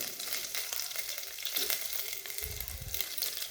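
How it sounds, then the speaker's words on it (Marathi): Garlic dropped into hot oil for a dal tadka, giving a steady, close sizzle with a brief louder burst of crackling partway through, no voices. "आणि यानंतर मी लसूण टाकणार आहे"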